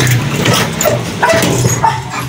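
A dog barks and yips amid loud, busy background noise, a few short calls scattered across the moment.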